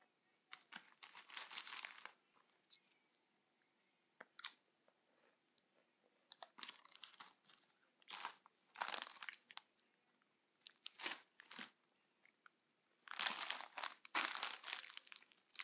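Someone crunches and munches Lay's potato chips from a bag, with repeated bursts of crisp crunching and bag crinkling in irregular clusters, close and fairly quiet, with pauses between bites.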